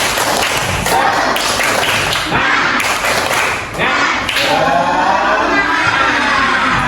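A fourth-grade class does a rhythmic clapping game together, loud group clapping in quick bursts mixed with children's voices and chanting throughout.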